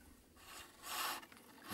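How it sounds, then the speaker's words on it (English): A small spindle gouge cutting wood on a lathe while a baby's rattle is turned, faint scraping and rasping bursts that swell and fade in short passes. "Remove the waste with a small spindle gouge."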